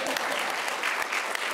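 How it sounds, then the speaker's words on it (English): Applause at a city council meeting after a vote on a zoning petition: a crowd's dense, steady clapping in an indoor chamber, moderately loud and unbroken. "There should be a round of applause right about now."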